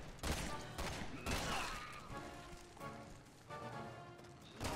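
Gunfire in Resident Evil 6 during the Jake campaign, with loud bursts of shots in clusters and rapid volleys alongside other game sounds, up close and prominent.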